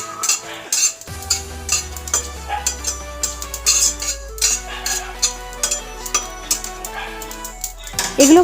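Coriander seeds, a dried chilli and cumin dry-roast in a wok, with repeated scraping and clinking of a metal spatula against the pan over a low background hum.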